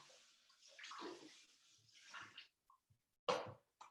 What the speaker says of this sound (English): So now I'm going to rinse it.